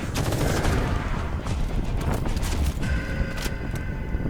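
Rapid gunfire in a zombie shooter video game, with dense bursts of shots and sharp metallic cracks packed close together at a steady loud level throughout.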